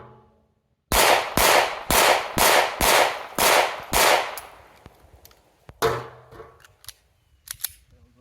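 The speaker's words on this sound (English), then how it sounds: "So we're going to fire, in essence, what was 2 full magazines of the Bond Arms, a total of 4 rounds" A Bond Arms Rough & Rowdy .45/.410 pistol lets off a quick run of sharp, loud cracks in even succession. A few scattered clicks and louder snaps follow with gaps between them.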